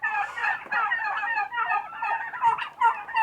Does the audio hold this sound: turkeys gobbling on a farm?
yes